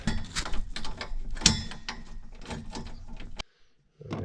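Small screws are worked out of the dash faceplate of a 1954 Packard Panama, producing a close run of quick metallic clicks and ratcheting ticks. The sound stops into near silence, then briefly resumes.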